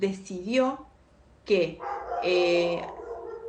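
A dog barks a few times close by, in short sharp bursts that mix with a person speaking Spanish during an online talk.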